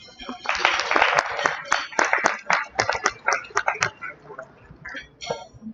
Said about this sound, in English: Can we please have a round of applause for all of them for gracing the occasion?